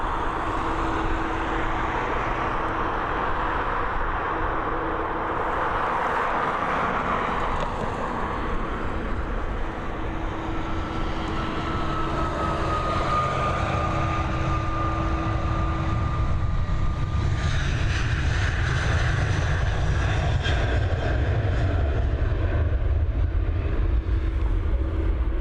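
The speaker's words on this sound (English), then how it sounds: "Here we go, she's on the move, heading over to Milan. This Boeing 737." A Boeing 737 airliner rolling out and taking off at Dublin Airport, a sustained loud jet engine roar that swells and holds for the whole stretch, with a thin whine riding over it.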